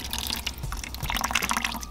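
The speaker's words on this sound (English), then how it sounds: "Now you can see it's just dripping." Water dripping steadily from a knotted tube during drip acclimation of a green spotted puffer for a brackish tank, a quick run of small wet drips and splashes close by with no talking.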